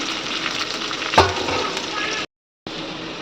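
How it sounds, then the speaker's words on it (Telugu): Chopped onions and green chillies frying in a pan give a loud, steady sizzle with one brief clatter of stirring, then a short total silence before the sizzle resumes. "కోసి పెట్టుకున్న ఉల్లిపాయ పచ్చిమిర్చి ఇవి వేసి కొంచెం గోల్డెన్ కలర్ వచ్చేదాకా వేపుకున్నాము"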